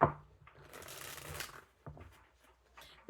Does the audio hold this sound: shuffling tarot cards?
yes